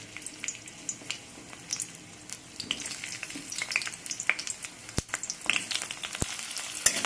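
Chopped onion fries faintly in mustard oil in a wok, a quiet crackle with scattered light pops and a couple of sharp utensil knocks.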